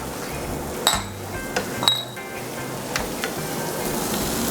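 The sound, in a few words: minced garlic sizzling as it is added to the pan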